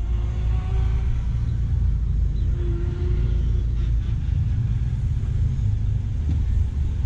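A car reverses slowly during a driving-school parallel parking test, its engine giving a low, steady rumble that stays close and constant with no talk over it.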